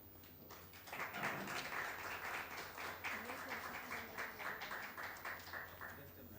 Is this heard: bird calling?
no